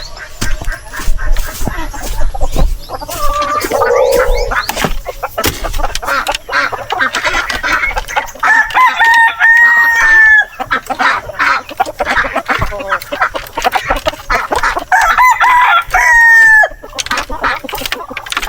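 Native and heritage chickens on a farm cluck continuously while a rooster crows twice, nearby and loud, with background bird calls and no talking.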